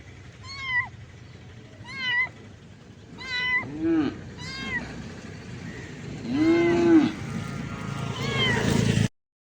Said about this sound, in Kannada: ಓಹ್, ಬೆಕ್ಕಿನ ಮರಿ.